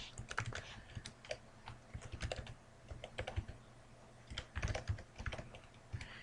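Rapid, uneven clicking of keys on a computer keyboard while entering a web address into a SoapUI project in Eclipse, with close, crisp keystrokes coming in short bursts and brief pauses and no voices.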